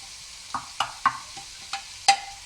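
Spices cooking in a pan for restaurant-style chicken fried rice, with about six sharp spatula scrapes and stirs at uneven intervals over a faint background sizzle, close by and with no talking.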